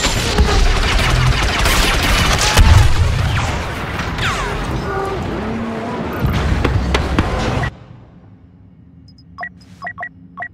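Blaster fire in a Star Wars shooter battle on Crait against an AT-M6 walker: dense, loud volleys and booms for several seconds, then a sudden drop to a quieter stretch with a few isolated sharp shots.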